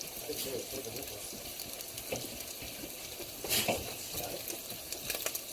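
Bacon for spaghetti alla carbonara sizzling in a pan, a continuous crackling fry with occasional louder pops and a brief clatter midway.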